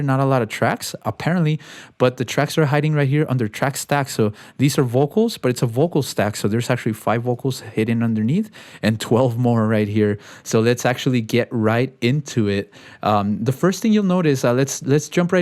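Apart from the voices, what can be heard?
No everyday noises stand out.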